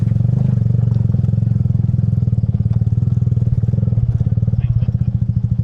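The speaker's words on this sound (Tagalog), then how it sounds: "Pinasok yung tambucho ng motor ko." A motorcycle engine idles and revs unevenly up close after a water crossing flooded its exhaust, its low throbbing pulse sputtering and catching, with a voice briefly audible.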